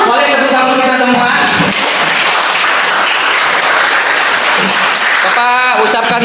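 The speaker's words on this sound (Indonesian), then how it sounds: "Oke, boleh tepuk tangan kita semua" Classroom of students claps for a group presentation in a history lesson, loud close applause between bursts of a voice at the start and end.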